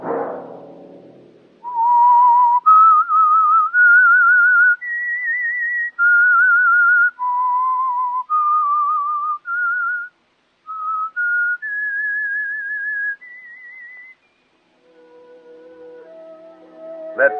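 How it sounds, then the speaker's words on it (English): A single person whistles a slow, wavering theme tune for an old radio drama, each note held and sliding between pitches, with brief pauses between phrases. "Let that whistle be your signal"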